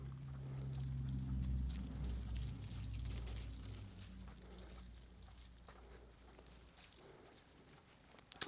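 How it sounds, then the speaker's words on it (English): About three liters of water is poured into prepared bedding in a worm composting bin, a low gurgling pour that is strongest early and gradually fades to a faint trickle, ending with a couple of sharp knocks. "And I'm gonna basically add the rest of this water."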